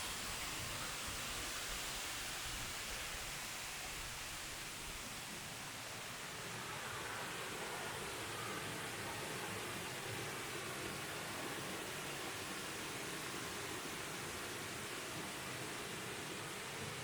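Small waterfalls beside a little chapel near a dam give a steady, broadband rush of falling water, continuous and fairly close, with no voices over it.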